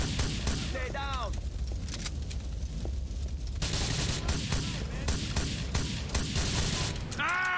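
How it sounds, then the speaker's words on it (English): In Grand Theft Auto IV, gunfire rattles in dense, rapid bursts during a Liberty City shootout, with sharp cracks and mechanical clatter. It is loud and near, and a player talks over it. "Who the fuck else is shooting at me?"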